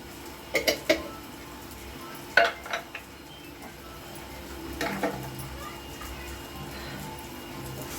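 A spoon stirs kitchen king masala into Punjabi dhaba-style rajma curry in a pot. A few light metallic clinks and scrapes come in small clusters over a soft, steady background hum.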